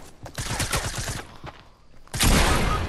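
Rapid SMG gunfire in a video game, a fast rattling burst of close, loud shots, a brief lull, then a louder sustained blast of game noise.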